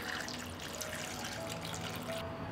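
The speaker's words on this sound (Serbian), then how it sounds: "Sipaću i vodu do visine poklopca." Water pours steadily into a pot holding glass jars, filling up toward the lids, a continuous soft splashing and trickling that stays even and close throughout.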